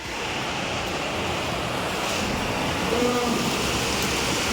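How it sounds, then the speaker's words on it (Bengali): Heavy rain pours onto a flooded balcony, a dense, continuous hiss and rush of falling water, loud and steady throughout with no pauses, a faint voice briefly audible beneath it. "এত বৃষ্টি হচ্ছে আজকের পুরো দিনটাই বৃষ্টির জন্য ম্যাচাকার হয়ে গেল"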